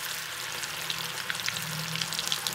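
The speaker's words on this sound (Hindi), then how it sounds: "एक मिनट तक इन्हां नूं हिलाना नहीं, इदां ही फ्राई हुंदे रहिण देना।" Chickpeas fry in a hot pan with oil for crispy chana chilli, a dense, even sizzle with small pops and crackles, close and steady throughout, with no voices.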